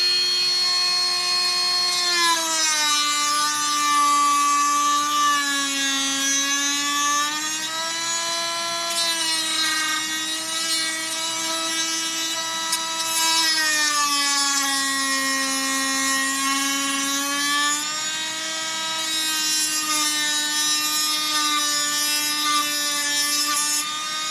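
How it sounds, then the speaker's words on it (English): A Dremel-style rotary tool grinds plastic for an oil pressure and voltmeter gauge upgrade on a 1989–1995 Toyota 4Runner pickup, giving a steady high whine whose pitch dips and rises as load changes, close and continuous with no talk. "Get our Dremel-like device. You can use anything. You can use a sander."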